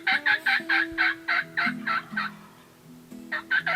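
A wild turkey gobbles during a spring turkey hunt outdoors. A loud, rapid run of gobbling pulses is followed by a short pause and then another burst, with faint lower calls underneath.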